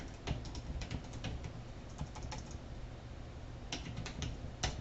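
A search query is typed on a computer keyboard: quick, close clusters of light key clicks in short bursts with brief pauses between them, heard alone over a faint steady hiss.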